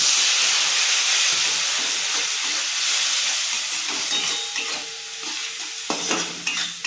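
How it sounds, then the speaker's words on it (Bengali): Fried spice paste for a Bengali bottle gourd fritter curry hisses and sizzles steadily as a little water hits the hot pan, a loud, dense steam hiss that slowly eases, with faint stirring scrapes near the end. "এবার আমি জল দিয়ে দেবো একটু সামান্য।"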